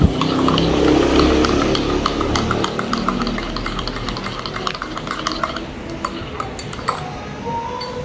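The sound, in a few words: stirring Polomero Blend coffee in a cup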